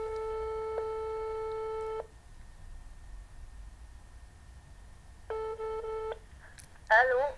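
A telephone ringback tone sounds during a prank phone call, with two long steady rings separated by a silent gap, before a person's voice briefly answers at the end.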